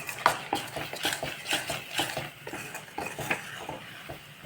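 Ingredients for ragi paneer kozhukattai, ragi flour and paneer, are stirred together in a bowl. A spoon scrapes and clinks irregularly against the bowl, quiet and close.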